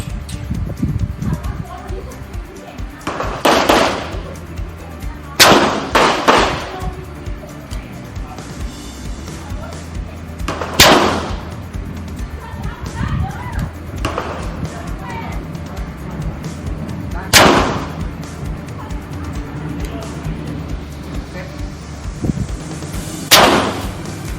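Pistol shots from a ZEV P320 at a firing range, about half a dozen sharp loud cracks spaced several seconds apart, some in quick pairs, with voices and background noise between the shots.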